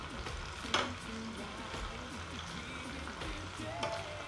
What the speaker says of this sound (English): So plantain should take around 1 to 2 minutes to cook, and you just want to turn them over, so they get cooked from both sides.